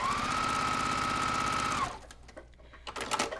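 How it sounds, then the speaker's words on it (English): A sewing machine runs steadily, stitching a diagonal line on a quilt block for about two seconds before stopping, followed by quieter handling noises. "Turn it over and we're gonna stitch on that diagonal line."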